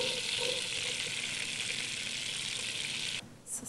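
Onions sizzling in a pan as vegetables go in for a home-cooked dish, a steady bright crackling hiss close by that cuts out abruptly near the end, followed by a couple of soft clatters.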